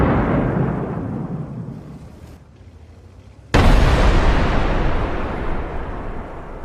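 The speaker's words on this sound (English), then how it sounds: "Shells land one after another, destroying Russian column." Artillery shells explode one after another on a Russian military column, heard as a heavy sustained rumble that fades before a sudden loud blast erupts into a long roaring boom, with no voices.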